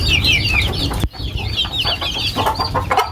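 Chicks and hens cluck and peep busily at close range while being fed, a dense run of overlapping chirps with a brief dip in the middle.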